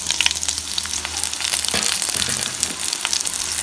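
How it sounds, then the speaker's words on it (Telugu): Fried bitter gourd tips into a garlic tempering in a hot kadai and sizzles with a loud, steady crackling hiss, a few scraping stirs and knocks breaking through near the middle. "మనం ఫస్ట్ ఫ్రై చేసి పెట్టుకున్న కాకరకాయ యాడ్ చేస్తున్నాను"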